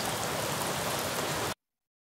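Light rain falling on an open field, a steady soft hiss of drops that continues evenly and then stops abruptly.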